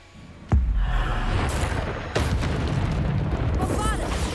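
Bombarda blasting spell in Hogwarts Legacy: a sharp booming explosion followed by sustained rumbling roar, a second blast about two seconds later, loud and continuous with game noise.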